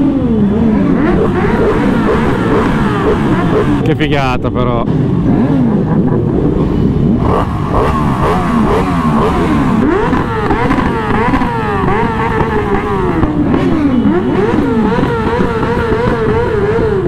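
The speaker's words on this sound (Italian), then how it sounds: "Come fate a sgasare con le moto così calde?" Several motorcycles revving their hot engines in a large group ride of around 200 bikes heading toward Misano, loud overlapping engine roars rising and falling continuously, with someone briefly speaking over them.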